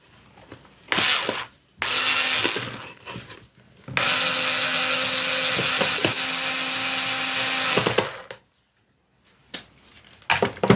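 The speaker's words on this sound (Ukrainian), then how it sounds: "ви починаєте закручувати цей шуруп" A power screwdriver drives a screw into a drywall fastener, sounding in several bursts of whirring motor and grinding rub, the longest lasting about four seconds, separated by short silences and handling noises.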